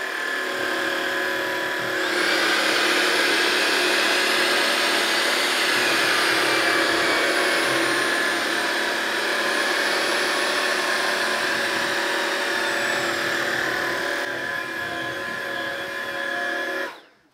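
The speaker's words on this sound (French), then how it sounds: "On va voir si le système Zero Tangle de Tinko fonctionne bien. Je me fais pas trop de soucis à ce sujet-là, mais on va quand même vérifier. Je me mets simplement en mode éco." A Tineco cordless vacuum cleaner in eco mode picks up hair, its steady motor whine and suction roar sustained and close for most of the stretch, then cutting off at the end.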